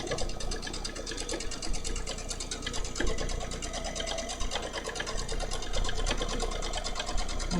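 A domestic sewing machine running steadily while quilting, with dense fast needle chatter and a low motor hum that holds a continuous, even rhythm close by.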